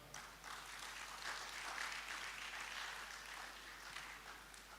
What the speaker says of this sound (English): Let's welcome our online audience with a clap.